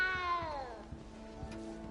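Cat meowing in Hogwarts Legacy, set inside the castle: a long, drawn-out mew sliding downward, followed by soft rhythmic footsteps and faint game ambience. No speech is heard.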